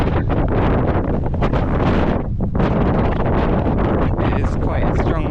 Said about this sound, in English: it is quite a strong wind